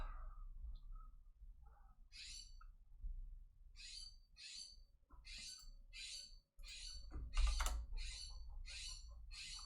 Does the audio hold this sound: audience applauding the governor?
no